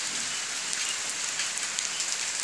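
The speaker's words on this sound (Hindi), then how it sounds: "तो आप देख सकते हैं यहाँ पर कितनी तेज़ बारिश हो रही है" Heavy rain pours steadily, a dense hiss of drops pattering on surfaces, continuous and close, with no voices.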